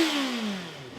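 A twin-cylinder Ducati Supersport 950 S motorcycle engine gives a brief, fairly loud throaty note that falls in pitch as the revs drop.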